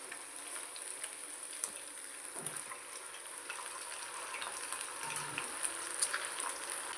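Chicken 65 fries in hot oil, giving a steady, close sizzle with scattered crackles and pops that continue throughout.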